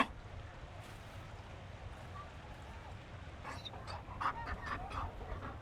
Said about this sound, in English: Oh, we've got a dog. Marabou hound.